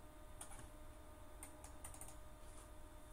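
Faint keystrokes on a computer keyboard in short scattered bursts, a few taps at a time over a steady background hiss.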